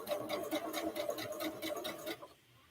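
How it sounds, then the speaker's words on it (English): A sewing machine stitches a quilt block in a steady, fast rhythmic run of needle strokes, close and continuous. It stops abruptly just before the end. "there it's sewing again"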